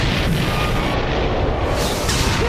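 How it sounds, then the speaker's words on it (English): A ship blows up in a giant explosion in the Avatar animated series, a dense, loud roaring blast that fills the whole span with sustained rumble and crackle, with no voices. "quickly turns around and runs back when he hears the giant explosion"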